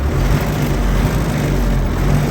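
A farm tractor's engine runs steadily close by after plowing through mud, a constant low droning rumble with a slight knocking at idle, no voices.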